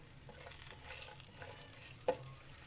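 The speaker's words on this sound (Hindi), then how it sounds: "इसको 2 मिनट के लिए हमने भूनना है सिर्फ मसाले को ऑयल में" Nihari masala and whole round red chillies fry gently in oil, a soft, low sizzle with faint stirring, broken by one brief metallic clink near the end.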